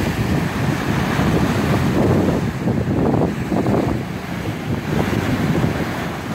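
Black Sea waves wash and break continuously along the Yalta embankment in Crimea in December, mixed with heavy wind buffeting the microphone; loud and rumbling with no voices.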